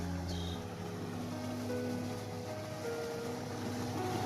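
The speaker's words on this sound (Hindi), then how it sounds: "और ये इधर हमारा पानी चल रहा है।" Irrigation water runs steadily through a radish farm field at night, a constant broad rushing wash with a low hum underneath and no voices.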